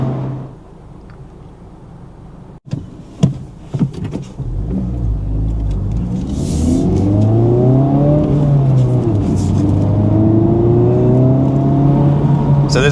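A Honda Civic Type R FL5 revved hard, the engine note climbing and sweeping through the rpm range loud and near, following a few sharp clicks and knocks at the start.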